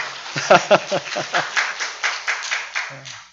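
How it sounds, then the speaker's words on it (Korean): A small church congregation at a Sunday morning service claps in a short burst of sharp, fairly close hand claps that fall into a loose, quick rhythm and fade out after a few seconds, with a voice briefly heard near the end. "박수 한번 해주십시오"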